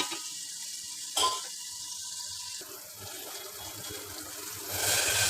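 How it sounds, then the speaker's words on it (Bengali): Water runs and splashes into a pan of potatoes and spices amid a soft background hiss, with a brief knock early on; no talking. "আলুটা সেদ্ধ হওয়ার জন্য একটুখানি পানি দিয়ে দেবো"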